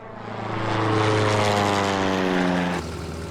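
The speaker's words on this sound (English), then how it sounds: "there's a plane" A propeller airplane flies overhead, its droning engine swelling loud and steady with a pulsing buzz, then easing off slightly near the end.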